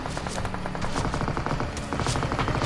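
Rapid bursts of gunfire from the PUBG Mobile battle royale game crackle continuously, with fusillade-like volleys and scattered single shots under a steady dense backdrop, loud throughout.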